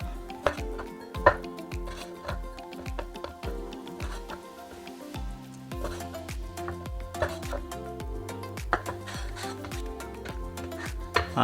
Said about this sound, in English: We're using a shoulder pork, 180 grams. So we got the mincing now.